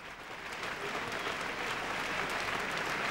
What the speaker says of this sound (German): Beifall für einen, den sie kaum kennen.